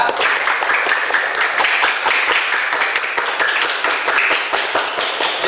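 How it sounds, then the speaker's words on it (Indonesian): A classroom of primary school children claps for a classmate during a maths lesson, a loud, fast, steady burst of many small hands lasting several seconds, with no talking over it. "Tepuk tangan untuk bisa."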